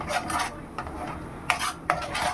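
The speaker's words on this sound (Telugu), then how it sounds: "పౌడర్ని కూడా వేద్దాం దాన్ని కూడా ఇలాగ ఒకసారి ఫ్రై చేసుకోవాలి" A ground peanut, sesame and poppy seed powder is stirred and fried in a pan for Hyderabadi bagara baingan, with rhythmic scraping strokes of a spatula close by and no talk.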